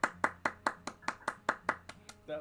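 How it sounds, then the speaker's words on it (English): Steady, evenly spaced hand claps, about a dozen sharp close slaps in a regular rhythm, standing in for a theater audience applauding as actors take their bows, with no voices over them. "The audience claps in raucous applause as all of the actors come out, take their bows, and cheer each other"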